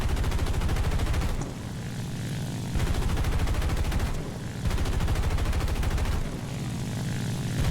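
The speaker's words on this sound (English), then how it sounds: "As you see me shooting at this DO-217, I think you've noticed that I'm not shooting right at this dot." Aircraft machine guns rattle in War Thunder, a tier 1 American plane firing at a Do 217. Sustained bursts of rapid fire come in three long stretches over a constant propeller drone.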